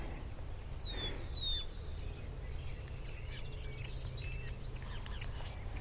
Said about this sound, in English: the birds are still quite noisy